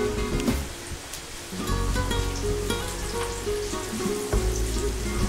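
White onion frying in a pan for Filipino lagat mustasa, a steady dense sizzle with scattered crackles and pops, fairly loud and close, with low thumps from the pan, no talking.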